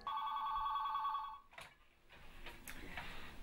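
A landline telephone rings in a steady electronic trill for about a second and a half, then stops, followed by faint clicks and room noise.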